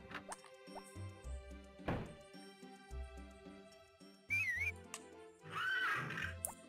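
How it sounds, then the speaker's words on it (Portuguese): A horse neighs in the video game Harvest Moon: Back to Nature, with two whinnies in the second half over looping game music and thudding hoof and tool sounds. "eu vou lá interagir com o cavalo"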